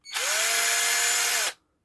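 A Piranha 12V cordless drill driver spins up in one burst of about a second and a half, a close, loud whirring whine that holds steady and then cuts off sharply into silence.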